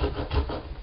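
A serrated knife saws through rubbery plastic, giving a short, close rasping scrape that swells and fades in under a second.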